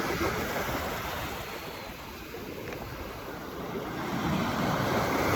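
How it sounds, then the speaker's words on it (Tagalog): Surf breaking on a shoreline at a fishing spot in Saipan, a steady broadband wash of rolling waves with some wind rumble, fairly loud and continuous with no talking. "Lalaki ng alon."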